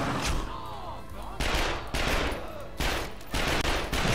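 Loud bursts of rapid automatic gunfire from the video game The Darkness II come in roughly four repeated volleys, each lasting about half a second to a second, with ringing echoes and mechanical clatter between them.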